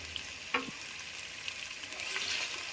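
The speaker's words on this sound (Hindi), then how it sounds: "लहसुन अदरक का पेस्ट डाल दिया" Garlic-ginger paste hitting hot oil for a dhaba-style mutton yakhni soup gives a soft, steady sizzle and fry hiss, with a brief stir or clatter of the utensil early on.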